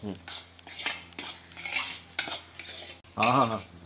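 A spoon stirs a thick sapada bhakshya mixture with ghee, cashews, raisins and cardamom in a pot, making repeated close scraping strokes and clinks against the metal, ending in one louder, longer scrape.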